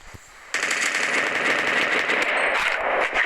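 Weapons-mod gunfire in a Minecraft survival game, a loud sustained crackling burst of rapid automatic shots that starts abruptly and runs steadily for about three seconds.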